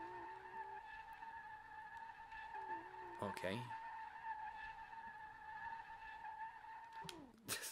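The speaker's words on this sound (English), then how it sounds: "This car's just screaming. Tires are just screaming." Tires on a 2JZ-powered 240SX drifting in SLRR, with a sustained high whine over engine drone and sharp squealing bursts in the middle and at the end; someone speaks briefly.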